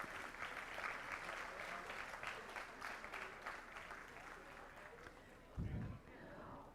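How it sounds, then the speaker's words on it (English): Applause from the audience at a school board meeting, faint continuous clapping with a short voice or bump near the end. "Let's give Marissa another round of applause."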